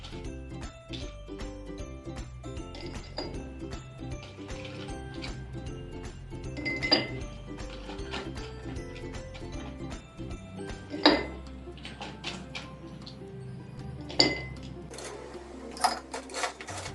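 Ice cubes clink and clatter into a glass of melon syrup, several sharp knocks scattered over a steady background hum, with a few louder impacts later on.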